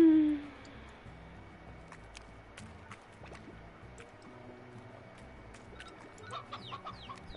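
Chickens being eaten by slimes in the video game Slime Rancher: a short squawk-like cry at the start, then quiet wet drips, squishy pops and faint clucking bits scattered over a low background.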